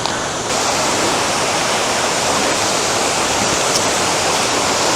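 Will Be Free Falls on St. Vincent in the Caribbean roars as a steady, loud wall of rushing water, close and unbroken for the whole stretch, with no voices.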